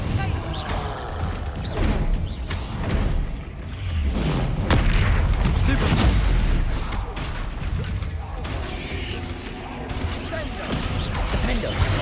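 Bombarda spell blasts in the Hogwarts Legacy video game: repeated heavy booms and crashes come in close succession amid combat noise, with a voice speaking over them.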